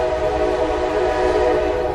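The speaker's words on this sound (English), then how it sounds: "my timing was exquisite to capture the train sound here" A train rumbles past on the rail line beside the Great Allegheny Passage trail near Myersdale, Pennsylvania, a steady loud rolling drone with sustained horn-like tones throughout and no talking.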